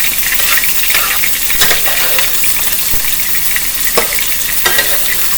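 Hot grease spattering loudly as filling fries in a pan, an intense bright sizzle with sharp crackling pops spread throughout, close up and without any talking.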